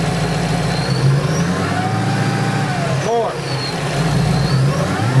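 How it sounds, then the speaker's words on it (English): A supercharged car engine idling, then revved up gently by someone in the driver's seat during cooling system troubleshooting, the pitch rising and falling under a voice close by. "My assistant in the car, so rev it up just a little bit"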